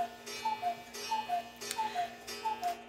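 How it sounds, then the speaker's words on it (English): A cuckoo clock ticks steadily and close by, each tick a crisp, evenly spaced click against a quiet background with a faint hum. "cuckoo clock."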